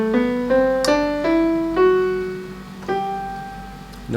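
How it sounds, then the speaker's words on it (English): A piano plays the straight major scale on white keys alone, single ringing notes stepping upward one at a time with a slow, even rhythm, each note decaying into the next. "If I was to play the straight major scale, it would sound like this"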